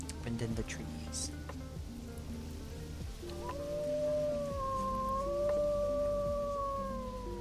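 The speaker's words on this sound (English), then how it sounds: "Wolf jump scare" A wolf in the survival game Vintage Story howls, a long wavering cry that rises and holds for several seconds over a low rumbling game backdrop with a rain-like hiss.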